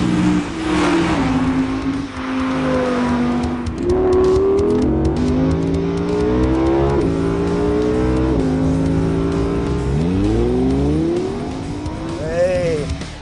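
An Audi R8 V10 engine revving hard and high, pitch climbing and dropping through repeated shifts, loud and close, with a voice briefly underneath.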